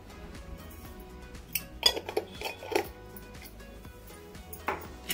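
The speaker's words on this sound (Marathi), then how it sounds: "आणि आता हे मिक्स करून घेते सगळं." Surmai fish flour coating being mixed in a bowl for a Malvani-style fry, heard as scattered clinks and scrapes of utensil against dish over a low background hum, with a few sharper knocks.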